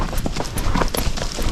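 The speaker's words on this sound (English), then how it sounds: "my horse is fox-trotting" Hooves of a Rocky Mountain Horse fox-trotting along a trail give a steady, close clip-clop rhythm with the regular beats of a gaited horse, over outdoor background noise.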